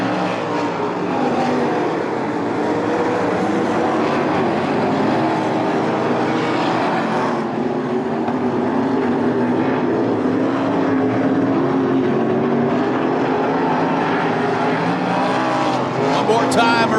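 A field of 305 sprint cars races a heat at Attica Raceway Park dirt oval, a loud continuous roar of engines rising and falling as cars pass, with a voice faintly present under the noise.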